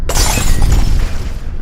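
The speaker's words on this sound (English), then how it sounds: "Windows shattered in the office building" Office-building windows shatter as a stone wall bulges and collapses: a loud, close burst of breaking glass with a dense crash of shards that tumbles on for over a second.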